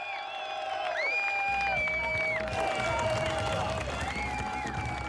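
Home crowd at the FIA European Truck Racing Championship podium in Most cheers, whoops and applauds loudly and continuously, with whistles and shouts rising over the clapping.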